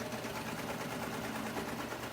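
A sewing machine runs at a steady, fast pace as it stitches fabric layers for underwear, a continuous close mechanical whir with no pauses and no talking.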